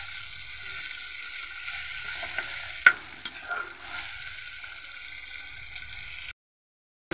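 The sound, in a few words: ginger and garlic frying in a pan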